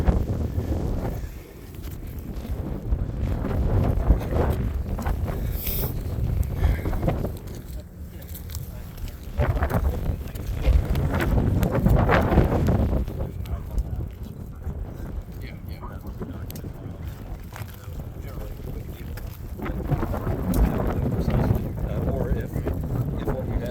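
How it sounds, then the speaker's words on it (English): Gusty wind blows across a shingled roof during a wind and hail damage inspection, with a loud rumbling buffet against the microphone that rises and falls and a voice intermittently over it. "Here's more wind."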